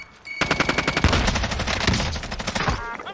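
Rapid automatic gunfire from Call of Duty: Warzone rattles in loud, dense bursts, opening with a short tone before the volley and staying close and intense for about three seconds.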